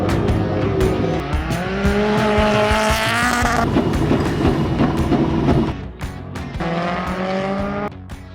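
A race car at full speed during the first free practice session: a loud, continuous engine roar with revs rising and falling through gear changes and sharp tyre squeal. No talking.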